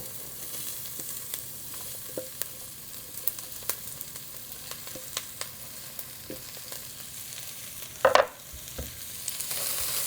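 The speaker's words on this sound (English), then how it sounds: "I'm going to go ahead and give those a stir." Garlic, ginger and green peppers sizzle quietly in a pan while a utensil stirs them, producing soft scattered scrapes and clicks with one louder clatter near the end.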